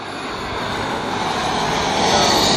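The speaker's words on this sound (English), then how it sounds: "And the F-16 here is definitely one of those jets" A radio-controlled F-16 turbine model jet flies past at an airshow, its roaring, whooshing engine noise broad and steady, swelling louder toward the end as it nears.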